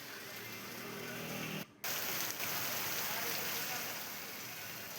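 Heavy unseasonal rain falling in Barshi, Solapur, a dense even hiss of downpour lasting throughout with a brief dropout partway through.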